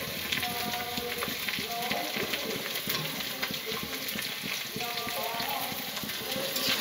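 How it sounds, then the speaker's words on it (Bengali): Chopped carrot, beet, tomato and chilli frying in a pan, a continuous close sizzle with frequent scraping stirs, a voice speaking softly over it at times. "এগুলো ভালো করে লাল লাল করে ভেজে নেব"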